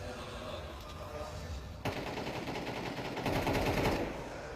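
Gunfire in Counter-Strike 2 during a FURIA vs TheMongolz quarter-final match, rapid automatic bursts crackling dense and continuous over crowd and commentator noise, with a sharp shot standing out midway.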